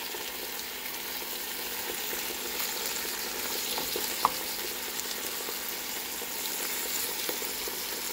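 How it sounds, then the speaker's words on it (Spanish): Hen meat, skin and fat removed, seared in hot oil in a pot for a soup, a steady close sizzle and crackle with a faint clink partway through. "La voy a sellar un ratito en el aceite"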